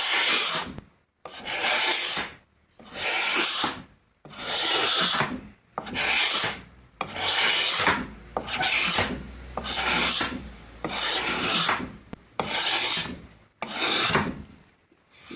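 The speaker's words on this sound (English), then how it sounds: "I'm just using a scraper, a wood scraper, and trying to get it off" A hand wood scraper rasps the old finish off a wooden drawer front in about a dozen long, even strokes, each a loud close scratchy rub with short pauses between.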